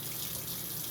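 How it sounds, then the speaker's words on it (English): Running water rinses out a jar, a brief continuous splashing rush close by, lasting under a second. "Take the jar and rinse it."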